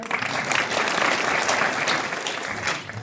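An audience at a devotional kirtan gathering claps in a dense, sustained burst of applause that carries on steadily for the whole few seconds before easing slightly.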